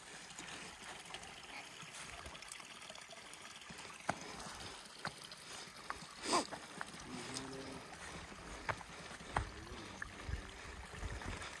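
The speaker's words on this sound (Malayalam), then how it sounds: "ഈ ഭാഗത്തുകൂടെ ഒരു അരുവി പോകുന്നുണ്ട്" A small mountain stream runs through grass high on a trekking trail at Banasura Peak, Wayanad, giving a steady faint trickle and rush of water with a few brief clicks and knocks near the microphone and no talking.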